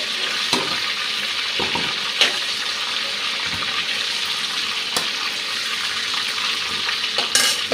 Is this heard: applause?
no